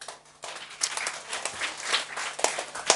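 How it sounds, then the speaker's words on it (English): Audience clapping at a youth camp talk on an Everest base camp expedition, a short burst of scattered hand claps at moderate distance with a quiet room underneath. "So one clap for that."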